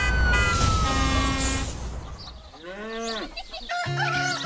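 Rooster crowing in a radio advertisement for a farm-animal event at La Louvière, Belgium: a loud, close cock-a-doodle-doo with jingle music and studio effects around it.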